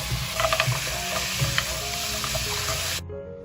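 Pork trotters stir-fried with cooking wine, dark and light soy sauce and a little salt sizzle steadily in a wok, with scraping spatula strokes and clinks over about three seconds before the sound cuts off abruptly.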